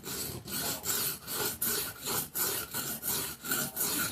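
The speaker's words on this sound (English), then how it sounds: "Now we got another one to sharpen. My karambit knife." A karambit knife is stroked back and forth across a whetstone in a steady rhythm of about ten close, raspy grinding passes with no talk.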